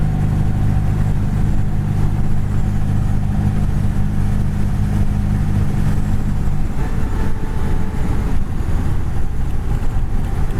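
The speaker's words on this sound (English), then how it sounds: "Picks up speed good, yeah" A 1938 Ford Tudor, eighty years old, gathering speed on the road, its engine drone steady and loud beneath heavy wind rush, with the low rumble shifting as it accelerates.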